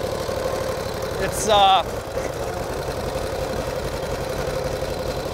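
A 1949 Harley-Davidson Panhead enduro racer motorcycle engine runs in a steady, rough drone throughout, with a brief spoken word over it.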